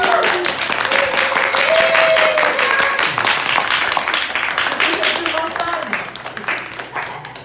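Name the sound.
audience applause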